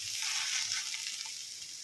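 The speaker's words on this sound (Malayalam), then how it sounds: "ഇടയ്ക്കിടയ്ക്ക് ഇളക്കിക്കൊണ്ടിരിക്കണം എങ്കിലേ എല്ലാ സ്ഥലവും ഒരേപോലെ ഫ്രൈ ആവുകയുള്ളൂ" Ginger frying in a pan for a Kerala ginger curry, giving a steady dense sizzle with a faint stir, close and alone with no voices.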